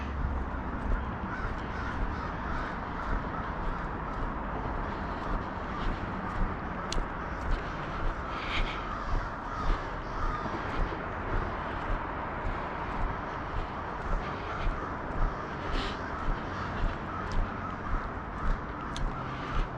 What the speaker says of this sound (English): Got a whole tree full of crows over there, if you can hear them.